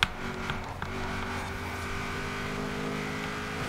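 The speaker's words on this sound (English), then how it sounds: "The sound of this car, oh my days, what I wouldn't give," A Honda NSX engine in the racing game Forza Horizon 4 holds a steady, loud droning note rich in harmonics, with a brief bump at the start and then an unbroken hum throughout.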